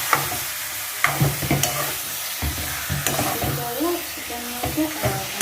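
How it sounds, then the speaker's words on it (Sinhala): Chicken pieces frying with curry leaves in a pan, a steady sizzle broken by stirring knocks and scrapes, with some faint talk in the background. "ඒ සුවඳ දැනෙනකොට චිකන් ටික එකතු කරගන්න."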